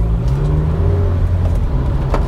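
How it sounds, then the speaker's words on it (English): A Honda Civic engine hums steadily from close by, a low continuous rumble that holds an even level with no pauses. "That engine sounds as sweet as a nut."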